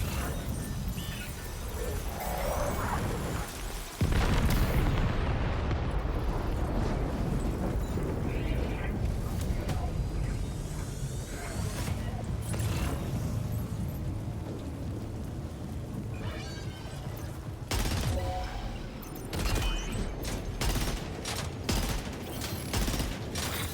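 Bursts of gunfire from the video game Death Stranding 2 crackle over a dense, rumbling battle soundscape, with sharp loud volleys near the end and a low continuous roar throughout.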